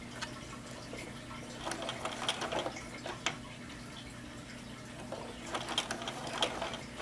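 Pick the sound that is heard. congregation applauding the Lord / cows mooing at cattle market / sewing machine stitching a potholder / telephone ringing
sewing machine stitching a potholder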